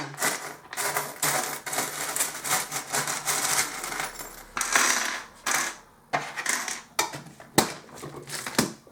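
Small charms dropped and clattering onto a surface during a tarot-style reading, a rapid series of close, clicky taps and light knocks with brief pauses between bursts.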